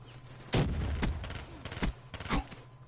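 Several short bursts of gunfire from a weapon in the video game Black Ops 3, loud and close, with sharp repeated shots spaced across the moment and a low steady background hum.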